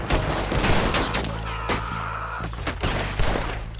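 Gunfire in Red Dead Redemption 2, a loud close fusillade of repeated shots and sharp cracks in a chaotic shootout, with several heavy reports punctuating the din.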